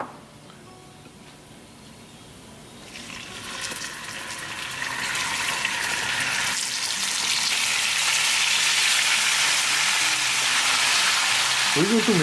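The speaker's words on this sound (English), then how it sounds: "on high gas we're going to cook beef for 10 minutes" Beef hits a pan of hot oil with cumin seeds over high gas, and a loud, steady sizzle swells after a few seconds and keeps building, broad and hissing, with no voices.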